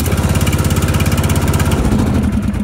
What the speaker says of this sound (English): we'll try to fire it up now.